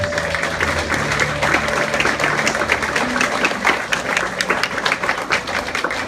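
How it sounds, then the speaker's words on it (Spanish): A prayer group applauds for Jesus after a prayer, a sustained wash of hand clapping from a room of people with faint voices mixed underneath, fairly close and steady throughout. "Le damos el aplauso a nuestro Señor Jesús."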